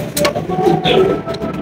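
A fresh, healthy breeding cock pigeon coos in a few soft, low warbling phrases close by.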